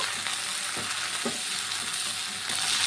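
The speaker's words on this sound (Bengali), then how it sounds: "এখন ভেজে রাখা ভেন্ডি আর আলুটাকে দিয়ে দেবো ভেন্ডি আর আলুটাকে দিয়েও আমি কিছুক্ষণ রান্না করে নেব" Okra and potato fry with onion in hot oil, giving a steady close sizzle with light stirring scrapes throughout and no talk.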